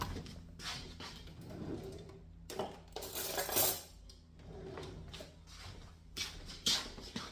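Butter goes into a mixing bowl for cupcakes with soft knocks, scrapes and clinks of utensils against the bowl, close by and irregular, and no one talking.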